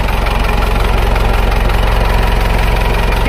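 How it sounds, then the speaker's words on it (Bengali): A second-hand 2008 Mahindra Bolero Maxx pickup's engine idles steadily, a loud, close, even low rumble with a fast regular pulse and no talk over it. "ইঞ্জিনের আওয়াজ, নিশ্চয়ই ইঞ্জিনের আওয়াজ পেয়ে গেছেন আপনারা"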